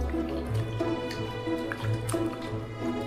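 Cucumbers are washed in a bowl of salted clean water, producing soft close splashing, dripping and squishing sounds in a steady, irregular rhythm, quiet with no talking.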